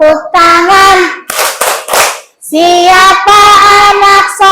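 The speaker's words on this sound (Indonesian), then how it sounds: "Siapa anak pintar, tepuk tangan." Children sing a classroom song in Indonesian and clap their hands in short bursts, several sharp close claps in a row between loud sung lines.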